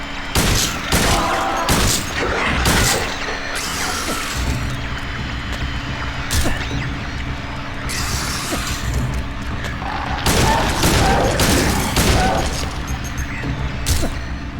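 Loud gunshots ring out in Silent Hill 2, arriving in irregular bursts of sharp cracks across the stretch amid heavy in-game noise, with occasional speech from a player.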